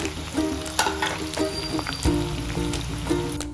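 Okra frying vigorously in hot oil, bubbling and crackling with sharp pops and stirring clatters, close and fairly loud.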